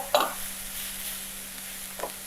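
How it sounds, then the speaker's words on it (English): Shredded carrots sautéing in a pan give off a soft continuous sizzle, with a couple of brief stirring scrapes near the start and end. "I'll add my shredded carrots, and then we want to saute this for about 5 minutes"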